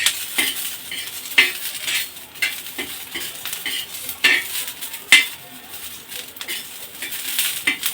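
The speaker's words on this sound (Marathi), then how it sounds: "मिरची थोडीशी ही अजून भाजून घ्यायची" Green chillies roasting in a pan for kharda, a spicy village-style chilli-garlic relish. A steady close sizzle runs throughout, and a spatula stirs and scrapes against the metal in repeated sharp clinks. No one speaks.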